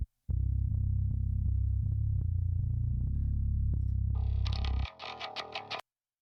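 A clean, deep bass guitar DI signal playing a sustained, low riff for several seconds, followed by a brief thinner, brighter passage before it cuts off.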